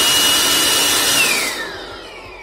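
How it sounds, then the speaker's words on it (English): Jakmister 700W electric air blower running at full speed: a loud, close whirring roar with a high whine that starts to wind down toward the end, no talking. "So let's power the motor at its full speed."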